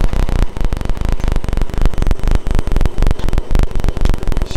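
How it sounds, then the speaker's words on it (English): A 1928 Rolls Royce 20 hp drop head coupe's straight-six engine idling after hibernation, a loud, close, steady rhythmic throb with even pulses and no talking over it. "Straight six, listen to how smooth it is."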